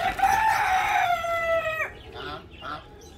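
A rooster crows loudly and close by in one long drawn-out call, followed by a few short clucks from the hens and rooster as they are let out of their coop.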